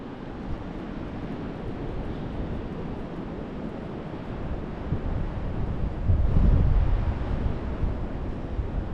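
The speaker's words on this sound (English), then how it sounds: "The waves are coming in." Steady Atlantic Ocean surf rolls in at high tide in Atlantic City with a constant wash and rumble, a heavier wave breaking near the middle, with wind buffeting the microphone.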